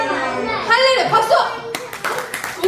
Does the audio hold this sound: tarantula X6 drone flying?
no